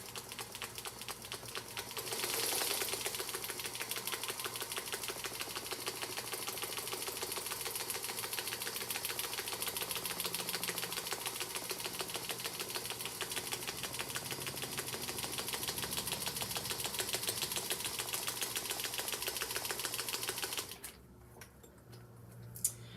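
An unthreaded Singer Featherweight sewing machine runs steadily for about twenty seconds, its needle mechanism producing a fast, even mechanical ticking and whirring close by, stopping abruptly near the end.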